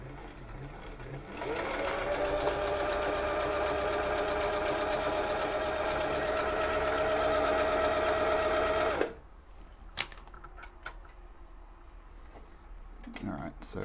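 An old Husqvarna sewing machine stitches steadily at half stitch length, its loud, even mechanical whir running for about seven seconds before stopping, followed by faint clicks and handling sounds.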